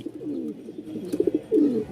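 A male fancy pigeon gives a loud, close, repeated cooing call in bursts over two seconds, with no other sound around it.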